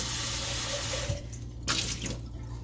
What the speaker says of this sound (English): Rinse this out.